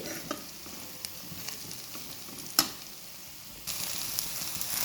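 Tindora (ivy gourd) fry being stirred in a pan over high heat, with a soft continuous sizzle, a few sharp spatula scrapes and taps, close up, no talking.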